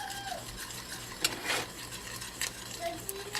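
Toffee on the boil in a pot is stirred with a utensil, giving soft scraping strokes and a couple of brief clinks against the pot over a low, steady bubbling hiss.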